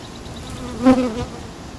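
Steady honeybee buzzing hums throughout in an apiary, with a slightly louder swell near the middle, like bees droning close by.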